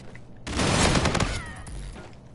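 A dense burst of rapid video-game gunfire from holding the trigger erupts loud and close, then tapers into scattered shots and a trailing rumble.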